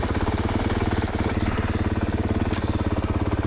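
A dirt bike engine pulls away with a steady, throbbing mid-pitched drone, close and continuous with a fast rhythmic pulse throughout.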